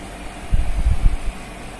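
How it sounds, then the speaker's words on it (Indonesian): A vacuum pump hooked to the low and high pressure lines of a chiller through a manifold hums low and steady, rising for a moment in a burst of mechanical rumble before settling back to a constant drone. "Kita nyalakan vakumnya."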